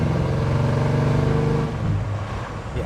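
A 1985 Chevy Monte Carlo G-Body engine revs up loud and close with a throaty, rising growl, then eases back toward a lower rumble.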